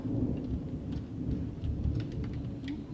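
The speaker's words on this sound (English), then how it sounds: "We've been rumbling, lightning, and the rain just started" A thunderstorm rolls in, with deep, continuous thunder rumbling under steady rain that patters on surfaces throughout, loud and close.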